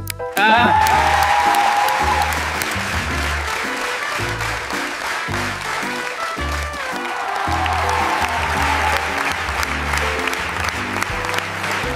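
An audience applauds loudly for an uncle invited up on stage at a comedy magic show, sustained crowd clapping running over a thumping music backing track from start to finish.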